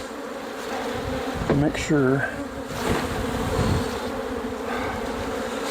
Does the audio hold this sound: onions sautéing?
no